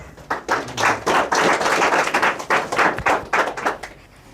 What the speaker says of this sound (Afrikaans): Kom ons gee hom 'n hande klap.